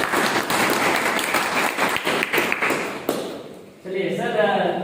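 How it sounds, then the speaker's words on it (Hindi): An audience at an indoor training session on passive income claps together for about three seconds in dense, close applause, which then stops as a voice begins to speak. "एक बार ताली हो जाए।"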